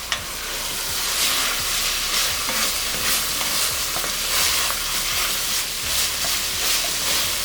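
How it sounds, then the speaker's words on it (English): Tomato paste, brown sugar and Worcestershire sauce being stirred in a hot Dutch oven for goulash, giving a steady close sizzle with repeated scraping strokes of the spoon throughout, no voices. "we will put our tomato paste, our brown sugar, and our Worcestershire sauce into the Dutch oven and give it a good mix"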